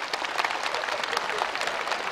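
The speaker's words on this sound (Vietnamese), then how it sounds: "Chúng ta hãy dành một tràng pháo tay nồng nhiệt chào đón giáo sư Cù Trọng Xoay." At a Tet New Year comedy and music live show, the audience gives a warm round of applause to welcome a guest onto the stage: lively, close clapping that continues throughout with no voices over it.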